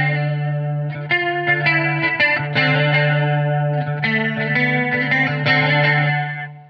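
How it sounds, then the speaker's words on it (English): Sustained electric guitar chords through a Blackstar ID:Core V4 Stereo 40 amp shimmer with a wavering chorus and trailing delay repeats, played alone with a few changes of notes. "I can have chorus and delay at the same time."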